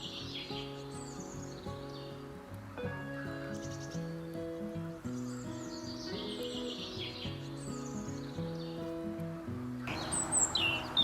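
A European robin sings in early spring, its high, thin trills and warbles repeating in short phrases, faint and somewhat distant over a steady musical backdrop.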